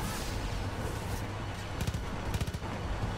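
A burst of rapid gunfire in the game Far Cry 5 crackles out over a steady low background rumble, with several sharp shots clustered near the end.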